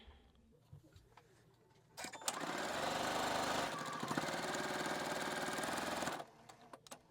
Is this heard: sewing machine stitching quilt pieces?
yes